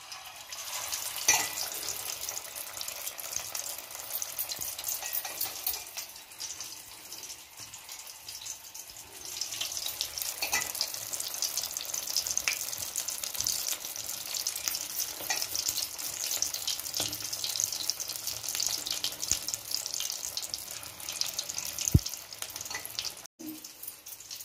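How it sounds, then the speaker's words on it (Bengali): Soybean veg kababs shallow-frying thin in refined oil over low to medium gas, a continuous soft sizzle and crackle with occasional clinks of utensils near the end. "স্লো গ্যাসে, স্লো থেকে মিডিয়াম গ্যাসের মধ্যে ভাজবেন পাতলা পাতলা করে।"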